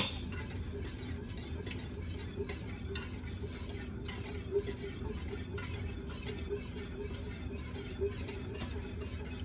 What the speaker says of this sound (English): a teaspoon and a half of garlic powder, and a teaspoon and a half of onion powder, and whisk that together.